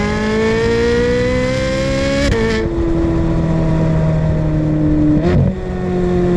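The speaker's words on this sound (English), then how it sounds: "This one specifically is fitted with an iPE Initech exhaust and sounds fabulous." A loud Ferrari 458 Spider with an iPE aftermarket exhaust revving and accelerating through gear changes, the exhaust note rising, dropping at each shift, then climbing again up close.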